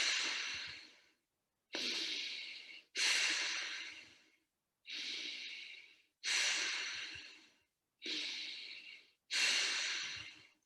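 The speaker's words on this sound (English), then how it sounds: "So let's do together this breath." Deep, slow breathing during a yoga exercise, seven long airy breaths in a steady rhythm separated by short silences, close and clear with no talk.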